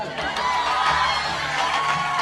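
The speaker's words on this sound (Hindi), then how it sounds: "बड़ी कमजोर सी ताली बजाई है आप" Crowd noise from an audience at a mushaira poetry gathering, a steady wash of clapping and scattered cheering voices, moderately loud and continuous with no single voice standing out.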